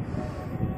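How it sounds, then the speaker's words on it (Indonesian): A KRL commuter electric train sets off from track 13 at the elevated Manggarai station, a low steady rumble with a whirring drone, close and constant through the brief moment. "berangkat lagi deh KRL feeder Bogor"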